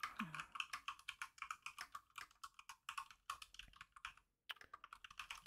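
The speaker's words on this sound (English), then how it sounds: "typing it now" Rapid, irregular keyboard typing with clicky keystrokes in quick bursts, close by, with a brief pause near the end before resuming.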